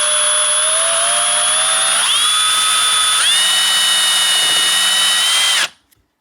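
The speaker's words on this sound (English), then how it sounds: "we want to get the drill and pre-drill a little hole down in to get ready for the screw here" A power drill boring a pilot hole for a screw while fixing a monorail drawer, whining steadily near and loud for over five seconds, its pitch stepping up twice as the bit works in, then cutting off abruptly.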